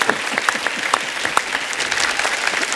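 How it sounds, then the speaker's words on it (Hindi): Loud studio audience applause at a comedy talk show, dense rapid clapping from a large crowd filling the whole stretch with scattered sharper claps standing out. "एक बार जोरदार तालियां हो जाएं"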